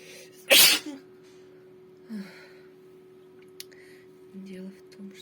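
One sharp, loud sneeze bursts out near the start, followed by soft breaths and faint vocal murmurs over a quiet background hum.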